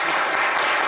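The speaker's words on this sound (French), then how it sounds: "Applaudissez Serge." Brief burst of dense crowd applause on a French-language show, a loud, even wash of clapping filling the short moment without pause.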